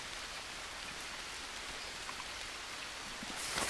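Steady rain in the survival game Green Hell, a dense even hiss of falling drops with a rising wash of spatter near the end, no voices over it.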